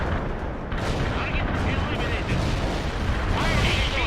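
Heavy artillery fire in the video game World in Conflict, a dense, continuous rumble of booming blasts that runs loud and unbroken throughout, with some brighter crackling bursts near the end.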